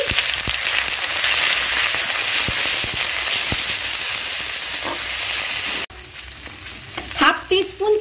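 Ginger paste, turmeric and chili powder sizzle loudly in hot oil in a pan for Bengali niramish aloo dum, with steady frying hiss and occasional stirring scrapes, then a quieter spluttering sizzle near the end.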